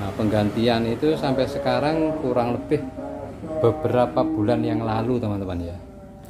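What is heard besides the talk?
No everyday noises stand out.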